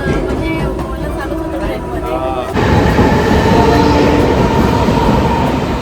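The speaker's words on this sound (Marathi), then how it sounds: "आपली ट्रेन गेली आता" Mumbai local train pulling out of a station near Andheri, a loud steady rumble with clattering wheels that swells sharply midway and continues close by, with faint voices in the background.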